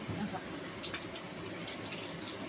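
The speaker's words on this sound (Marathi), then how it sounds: "पाणी आले. आता पटापटा घेते पाणी भरून" Water gushes steadily from a tap, a constant rushing hiss close by, with faint voices in the background.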